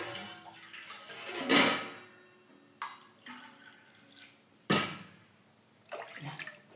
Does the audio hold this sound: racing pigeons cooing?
no